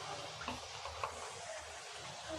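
A bunch of curry leaves being sautéed in a pan for Tamil-style chicken gravy, a quiet sizzle with light stirring scrapes and soft taps, fairly faint and steady.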